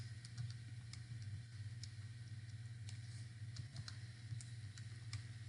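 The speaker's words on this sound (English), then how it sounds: "grab a calculator, and then what I like to do is type in my answer and store it as x" A calculator's buttons are pressed while entering a math answer, making sparse light, close clicks at uneven intervals over a steady low electrical hum.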